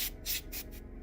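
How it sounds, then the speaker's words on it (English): Compressed air duster sprayed in short bursts into a computer case, three loud hissing blasts separated by brief pauses. "I will give it a little spritz with the spray air."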